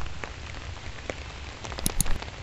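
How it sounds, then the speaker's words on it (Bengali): Rain falls steadily outdoors on a rainy day among trees and plants, a soft continuous patter with a few louder drops near the end. "বৃষ্টি পড়ছে, বৃষ্টি পড়ছে"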